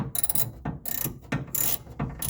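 A socket ratchet tightens a nut during engine assembly, giving bursts of close, loud clicking swings with short pauses between strokes and no talk.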